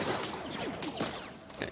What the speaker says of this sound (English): explosions and blaster fire